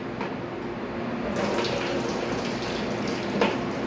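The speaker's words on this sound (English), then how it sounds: "pouring this stuff into the bucket." A continuous pour of grease from a sheet pan splashing into a bucket, steady and close, growing slightly brighter partway through.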